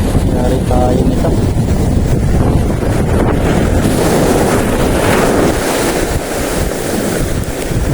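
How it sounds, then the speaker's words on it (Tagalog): Strong wind buffets the microphone at a sea fishing spot in Real, Quezon, a loud continuous roar mixed with waves and surf, with no clear talking. "Malakas ang hangin dito."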